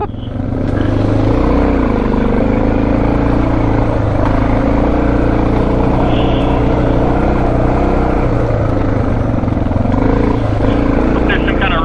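A Suzuki DR650 dual sport motorcycle climbing a steep hill in West Virginia, held revving hard in first gear with a loud, sustained, wavering engine drone, and a rider talking over it.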